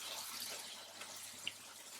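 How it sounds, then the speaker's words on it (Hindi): About one cup of water going into a spiced curry of potato and aubergine with tomatoes, heard as a steady close wash of pouring liquid lasting the whole stretch, with one small sharp tick near the middle. "और फिर इसमें मैं ऐड करूँगी तकरीबन 1 कप जितना पानी।"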